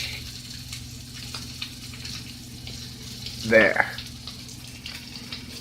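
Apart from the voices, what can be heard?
bone-in ribeye steak sizzling in a pan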